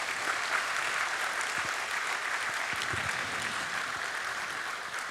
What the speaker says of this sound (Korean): 우리 아이들을 격려하는 차원에서 제가 힘찬 격려의 박수 한번 주셨으면 감사하겠습니다